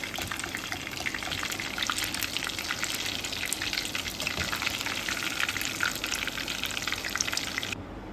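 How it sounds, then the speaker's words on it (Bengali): Soya chunks frying in hot oil, a dense, steady sizzle and crackle heard close up, continuous throughout without talking. "দেখো এইভাবে আমি সব সোয়া চাঙ্কগুলোকে ভেজে নিয়েছি।"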